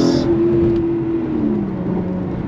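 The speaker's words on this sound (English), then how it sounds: "it's a Toyota V6, but it sounds a little bit more exotic, especially with the shorter exhaust" A Lotus Evora's Toyota V6 engine hums steadily at close range through a short exhaust, its note holding a low drone that gently drops in pitch as the revs ease off.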